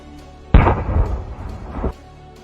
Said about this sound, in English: This video shows how the TNT explosive device is attached to the dog's abdomen and lungs and they are